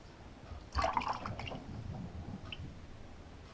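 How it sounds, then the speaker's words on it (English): A short splash of liquid being poured, followed by soft wet trickling and faint drips fading into quiet background noise. "Just want to add a little water to the top there."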